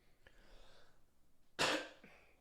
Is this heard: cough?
yes